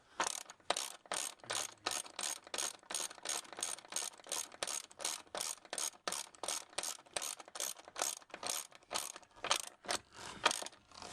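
Ratchet wrench tightening bolts on side step brackets of a Land Rover Freelander 2, a fast, regular run of sharp metallic clicks in bursts, close and clear with no talk.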